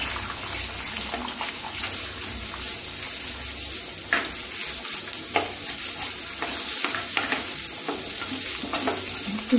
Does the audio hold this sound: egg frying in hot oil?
yes